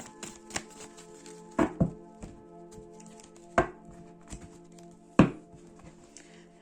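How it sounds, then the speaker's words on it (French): Tarot cards are shuffled and cut by hand on a table, giving a scattered series of soft taps and a few sharper thunks close up, with no talking. "je rebats un coup et puis après, je fais la coupe"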